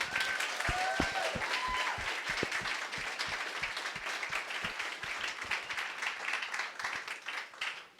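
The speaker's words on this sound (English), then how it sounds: "Round of applause for Betty, too." An audience claps in a sustained round of applause, many hands patting steadily, with a brief voice near the start.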